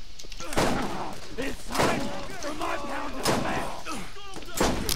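Gunshots in the video game Borderlands, several sharp loud bursts spaced out, mixed with talk and game sounds.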